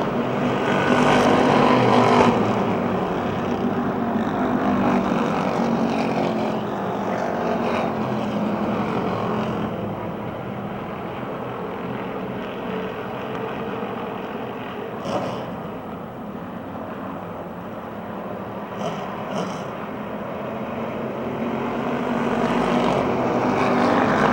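Race cars in a heat at Motordrome Speedway roar steadily around the oval, a continuous blended engine drone that swells and fades slightly as the pack circles.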